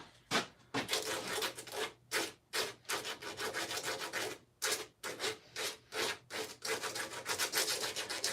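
Sandpaper scrubs along the edge of an SCA armour piece in quick, repeated strokes, each rasping burst separated by brief pauses, close and fairly loud with no voices.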